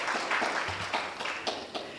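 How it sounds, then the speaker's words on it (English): Scattered audience clapping at a youth justice panel convening, a handful of distinct claps spread irregularly through a couple of seconds, fairly light and close. "And give a clap."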